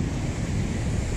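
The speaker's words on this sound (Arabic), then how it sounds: "هي هون البحر" Atlantic sea waves wash onto the shore at Dakhla with a steady, loud roar of surf mixed with wind buffeting the microphone and no break in the rush.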